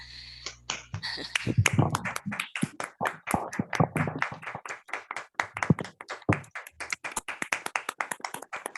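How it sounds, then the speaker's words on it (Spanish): Scattered clapping from an online meeting audience over open microphones for a cooperative savings presentation, many distinct sharp claps in uneven rhythm, fairly close and crisp, with faint voices mixed in. "abran sus micrófonos para darle un merecido aplauso al señor Guadalupe Armenta"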